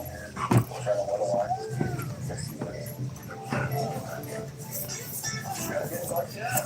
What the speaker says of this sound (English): Goofy dogs.